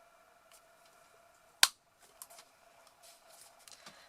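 A hole punch snaps through an embossed paper card protected by a scrap of paper, giving one sharp, close click, followed by quiet rustling and light handling taps.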